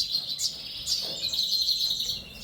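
High-pitched twittering of brown cobalt canaries and lesser redpolls in an indoor birdroom, a few sharp call notes then a continuous fluttering trill, close and steady, no voices.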